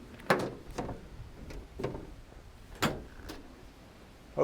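Twin solid rear doors of a 2015 Peugeot Partner 1.6 HDi van being handled: several separate clunks and latch clicks spaced over a few seconds, close by and fairly quiet, with no one talking.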